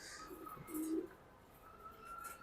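A racing pigeon gives one soft, brief coo, fairly quiet over faint background hum.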